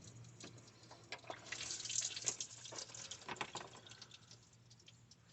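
Plain water runs in a steady splashing stream through a car radiator during a coolant flush, a continuous close hiss with small drips and spatters.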